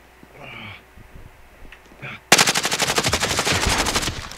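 Video game gunfire: after a few faint, scattered sounds, a loud automatic weapon bursts in abruptly, firing a long rapid stream of shots that continues to the end.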